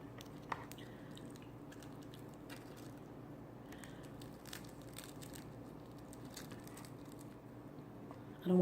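Close, quiet chewing of crunchy fried chicken, soft irregular crunches and squishy bites spread over a low background hum, with no talking until a brief louder sound at the very end.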